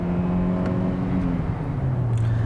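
A 2022 Hyundai Elantra Hybrid accelerates hard from a standstill, its engine hum rising steadily in pitch with a dual-clutch shift dropping the tone partway through, heard from inside the cabin at moderate loudness.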